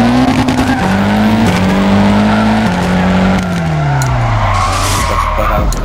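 Sustained tire squeal from a car drifting in the video game OverDrift Festival, loud and continuous with a droning engine whose pitch slides up and down throughout.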